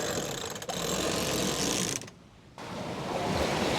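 Rapid ratcheting clicks from a sailboat winch as the foresail sheet is hauled in, loud and close, broken by a brief pause, with wind and sea rushing steadily behind.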